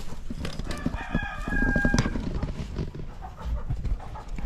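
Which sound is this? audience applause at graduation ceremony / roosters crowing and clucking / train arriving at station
roosters crowing and clucking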